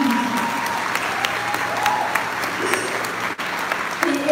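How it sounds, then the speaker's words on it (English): An audience applauds at a celebration of the life and achievements of Hodan Nalayeh, giving a steady, moderately loud wash of clapping from many hands that carries on from start to end. "That deserves applause"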